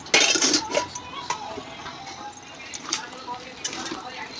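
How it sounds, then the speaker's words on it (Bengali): A lid goes onto a pot of boneless meat cooking on a gas stove with a sharp metallic clang, followed by a few lighter clinks and taps, while a voice speaks over it. "এবার আমি ঢেকে দিই"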